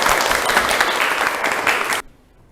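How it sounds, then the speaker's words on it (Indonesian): Classroom applause from students during a lesson, a dense, loud burst of clapping lasting about two seconds before cutting off abruptly to quiet. "Oke, tepuk tangan buat kita semuanya."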